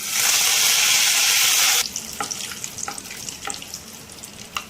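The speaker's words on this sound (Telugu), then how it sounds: "తాలింపు వేగింది" Curry leaves, dried red chillies and tempering spices sizzle loudly in hot oil for a kitchen puri kurma, a dense hiss that cuts off abruptly, followed by quieter crackles and scattered pops.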